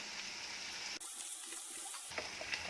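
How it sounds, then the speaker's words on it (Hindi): Water pours from a tap into a pan for veg kheema gravy made with soya granules, a steady hissing rush that briefly shifts in tone midway, close and continuous, with no talking. "अब इसमें हम पानी डाल लेंगे ग्रेवी के लिए"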